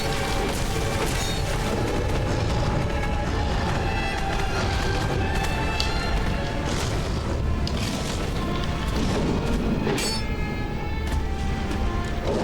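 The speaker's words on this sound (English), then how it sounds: "So the roar is the explosion." A heavy, sustained roaring rumble from an explosive attack in Dark Souls II: Scholar of the First Sin DLC. The blast noise stays loud and continuous throughout, with crashing bursts layered on top.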